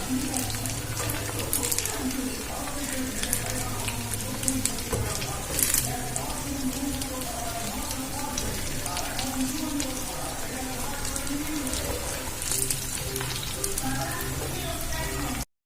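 Potato pakoras deep-frying in hot oil give a steady, dense crackling sizzle that runs the whole time, with occasional louder pops and a voice speaking over it.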